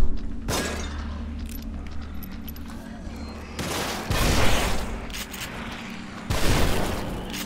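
Gunfire from enemies in the horror action game The Evil Within, with several loud, sharp bursts cracking over a steady low rumble and game ambience, spaced a couple of seconds apart.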